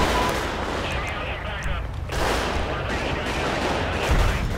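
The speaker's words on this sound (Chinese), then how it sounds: "We got a shot fire in this area." Dense gunfire rattles continuously in GTA V, a loud, crowded mix of shots and booming blasts with a brief dip midway, while voices talk underneath.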